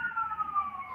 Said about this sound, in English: Haven't heard that fire engine in a while